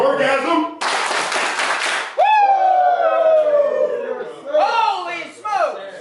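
A sales office crew claps together in a burst of sharp, crowded applause lasting about a second, followed by whoops and shouted cheers from several people, with loud voices continuing afterward.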